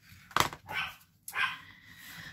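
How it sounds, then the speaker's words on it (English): A small dog barks a few times in sharp, separated bursts from somewhere off in another room, moderately faint, with no talking over it. "if my little dog keeps barking, I'm going to have to go out there and see what is the matter"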